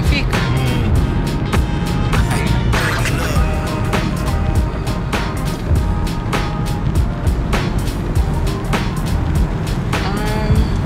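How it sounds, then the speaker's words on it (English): Busy traffic on the top road in Montego Bay, a continuous roar of passing vehicles with frequent rattling, clattering bursts close by, heard from inside a moving car. "Top road full of traffic now"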